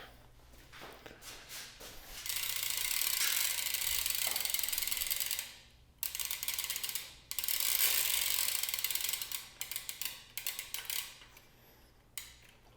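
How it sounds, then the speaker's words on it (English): A half-link BMX chain being fitted over the rear wheel sprocket as the cranks are pulled back, giving long bursts of close metallic ratcheting clicks separated by brief pauses and scattered lighter ticks. "pull our cranks back, get it around the pedal, put it on here"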